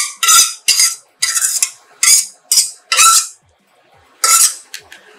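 Softened coriander is scraped out of a metal kadai onto a plate with a metal spoon: about seven sharp, close scraping clinks in irregular strokes, with a short pause near the end and no talk.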